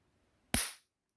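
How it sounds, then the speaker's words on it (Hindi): A single sharp electric spark from a homemade mosquito killer circuit cracks loudly, a sudden snap that fades within a fraction of a second, surrounded by silence. "इसका धमाका बड़ा ही तगड़ा स्पार्क करता है यार ये"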